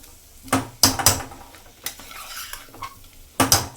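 A potato and green pea gravy with spices is stirred in a pan: loud, close spoon scrapes and knocks come in short bursts with quieter simmering gaps between them.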